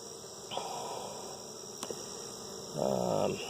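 Honeybees in a young hive hum during an inspection, a steady faint insect drone with a louder, denser burst of buzzing near the end.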